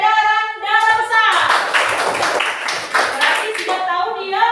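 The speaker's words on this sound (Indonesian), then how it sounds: "Oke, bagus, tepuk tangan buat kelompok peredaran darah besar." A classroom of students bursts into applause for a student group, a dense burst of clapping that swells and then fades, with a teacher talking before and after it.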